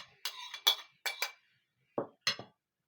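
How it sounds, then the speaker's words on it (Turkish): A spoon clinks and scrapes against a bowl while stirring the ingredients for a Sivrihisar-style bean salad (piyaz). Several short, close clatters sound in quick bursts, then a pause and two more, with no talk. "Karıştırmaya devam ediyorum."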